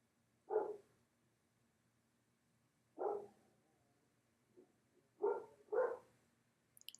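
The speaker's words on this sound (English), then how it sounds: "Hear my dogs." Several dogs bark faintly from a distance in short separate outbursts, a single bark, another, then a quick pair, with quiet gaps between.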